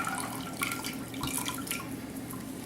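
Water from thawed spinach pours out fast in a steady, close splashing trickle with small drips throughout, and no one speaking.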